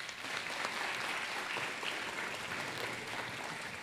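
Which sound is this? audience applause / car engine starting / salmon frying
audience applause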